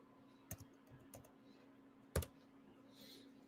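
Keys on a computer keyboard are typed in a short burst, a few soft clicks followed by one sharper near tap against a steady low hum, with no talking.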